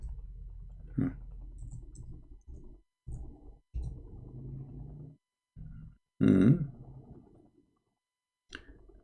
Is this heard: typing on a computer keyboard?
yes